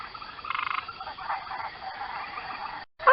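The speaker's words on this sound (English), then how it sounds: "Here's a frog, so let's hear her story." A rainforest frog in The Magic School Bus Explores the Rainforest, a 1997 CD-ROM game, croaks in a quick rattling burst and then gives softer, drawn-out calls over a low background, ending in a short gap and a brief sound.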